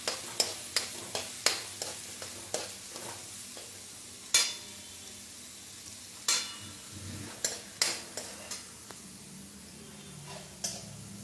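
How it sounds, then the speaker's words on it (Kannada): Small-chopped onions sizzling in a pan, with a steady frying hiss under repeated sharp ticks and scrapes of a spatula stirring them at close range. "ಇದು 3 ಆನಿಯನ್ ತಗೊಳಿದ್ದೀನಿ ಫ್ರೈ ಮಾಡೋಕ್ಕೆ"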